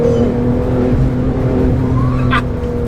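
A Porsche GT2 RS engine hums low and steady up close. A brief rising turbo whistle spools up near the end and finishes in a sharp burst.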